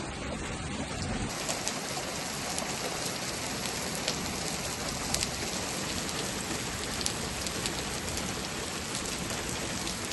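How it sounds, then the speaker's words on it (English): Rain falls steadily and densely, a constant close hiss of drops hitting surfaces with occasional louder individual splats, with no voices. "So enjoy this little video of the rain while I'm trying to plan this out."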